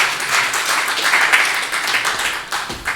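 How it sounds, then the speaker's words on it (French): A church congregation claps in praise to God, a dense, steady wash of many hands lasting about three seconds, fairly loud and close with no talk over it. "Give God a clap over and a praise."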